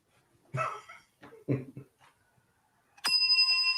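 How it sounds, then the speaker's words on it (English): A small bell rings once from a played recording, a bright sustained chime that lingers after a few earlier thumps and short bursts of sound. "He sent me a recording of his bell"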